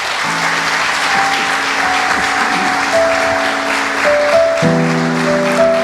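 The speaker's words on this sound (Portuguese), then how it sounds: "Você pode aplaudir ao Senhor?" Church congregation applauding at a Sunday evening sermon service, steady sustained clapping filling the room for several seconds, with sustained organ or keyboard tones beneath.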